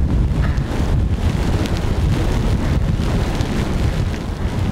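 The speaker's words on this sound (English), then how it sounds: "Sideways rain, full on headwind." Strong wind roars across the microphone during an off-road bike ride in sideways rain and a full headwind, a loud, constant buffeting rumble with gusty rises and no voices.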